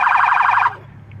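A toy police car sounds off when its button is pressed: a loud, rapidly warbling electronic siren-like tone lasts about two-thirds of a second and then cuts off abruptly, leaving faint room noise.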